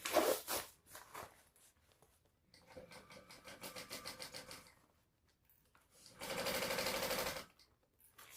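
Sewing machine stitching around the top edge of a CherAnn Bestie crossbody bag, running in short bursts and longer steady whirring runs with pauses between.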